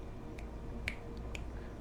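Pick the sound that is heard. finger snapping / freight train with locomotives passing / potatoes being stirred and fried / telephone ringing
finger snapping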